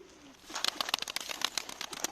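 Young tumbler pigeons at dusk give soft, faint cooing and chirping calls in quick bursts, with light fluttering close by.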